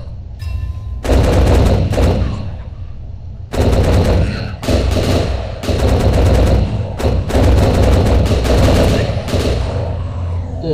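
Automatic gunfire against zombies in the Last Stand Dead Zone video game, loud rapid bursts of repeated shots broken by brief pauses, with dense rattling volleys running almost throughout.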